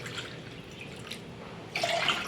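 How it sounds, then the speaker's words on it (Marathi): Water poured from a cup into a pot for making maize flour dough, heard as a faint trickling that swells into a louder close splashing pour near the end, no talk. "आता मी 3 कप पीठ घेतले, त्याच्यामुळे मी 3 कप पाणी घेते"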